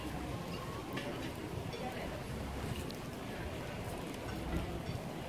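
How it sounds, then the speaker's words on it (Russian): Steady wind buffets the microphone outdoors at the marina in Puerto de Mogán, Gran Canaria, a continuous rumbling rush with faint background chatter underneath. "А дует ветер"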